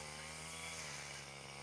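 A Tasco 328e petrol brush cutter engine runs steadily up close, a loud continuous two-stroke drone with a buzzing whine that holds level throughout, heard alone.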